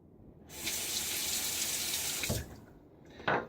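Water from a sink tap runs steadily for about two seconds while a razor blade is rinsed, then shuts off, and a short splash or clatter follows, with no talking.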